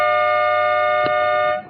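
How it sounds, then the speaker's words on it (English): A sustained electronic siren holds a steady multi-toned blare, loud and continuous, fading at the very end, marking the start of a Division 2 under-18 Australian football grand final between Seville and Yea. "The siren sounds,"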